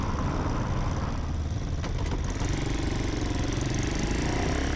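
A custom 1967 Honda CT90 motorcycle fitted with a swapped YX140 engine runs steadily nearby, a constant buzzing putter of a small single-cylinder engine with no talking.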